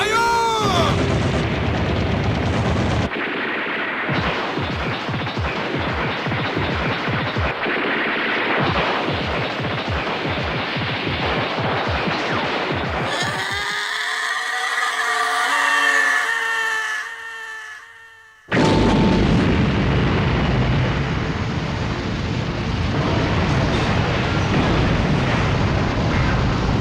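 Cannon fire and explosions aimed at a dragon boom and roar in dense, loud repeated bursts, break off into a tonal screeching passage, then crash back in as a sustained barrage.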